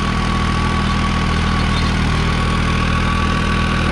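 New Holland 3630 Plus tractor pulling an 8-foot rotavator, its diesel engine droning loud and steady with a constant low throb and no pauses.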